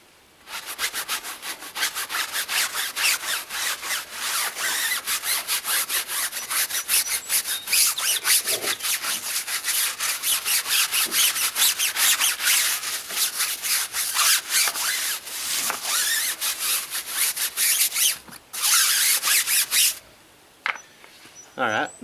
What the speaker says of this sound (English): now I'll go ahead and scrub the tire real good. And for that, I'm going to use my stiff bristle brush.